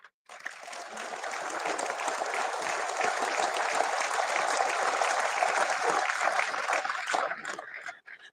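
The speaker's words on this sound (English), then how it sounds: "Let's give another round of applause for Mitch Sylvester." An audience at an Alberta Prosperity Project town hall bursts into applause, a dense, even wash of clapping that starts abruptly, holds steady for about seven seconds, then cuts off.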